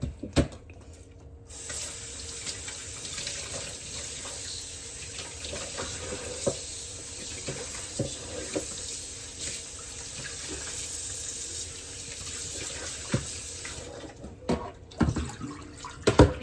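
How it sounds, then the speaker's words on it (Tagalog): Pork ribs for sinigang are washed under a running tap in a sink: a steady, close hiss of flowing water lasts most of the time, broken by clunks and splashes of handling at the start and end. "Tapos guys, tapos na hugasan yung ribs."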